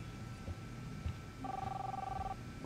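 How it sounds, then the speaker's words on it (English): Phone rings in the Life Is Strange video game, one steady electronic tone lasting about a second, quiet over low background game ambience. "Phone ringer."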